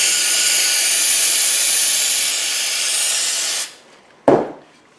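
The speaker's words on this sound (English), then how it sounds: "I'm going to use this brake cleaner and then I will wipe it off with the towel afterwards" Brake cleaner sprays in one loud, steady hiss onto a brake caliper for about three and a half seconds, then cuts off, followed by a short, sharp burst of spray near the end.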